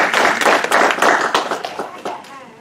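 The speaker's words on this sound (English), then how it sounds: "clap for yourselves" Audience clapping at the grand opening of the West Side MakerSpace at Dayton's West Branch Library, a close burst of dense applause that thins out and fades after a couple of seconds.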